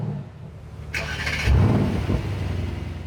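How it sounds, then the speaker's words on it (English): A Mercedes-AMG GLC 63 S engine cranks and fires up in Sport Plus mode with a loud burst, then settles into a deep, throaty idle with a rising rev. "let's start the car straight away in Sport Plus"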